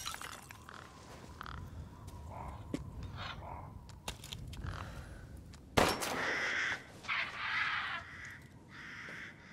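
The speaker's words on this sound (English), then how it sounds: "These crows have money on them?" Crows in the video game Resident Evil Village caw repeatedly at close range, with a sharp glassy clink partway through followed by louder harsh cawing.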